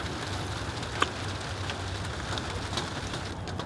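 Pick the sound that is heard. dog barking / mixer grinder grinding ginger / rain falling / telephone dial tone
rain falling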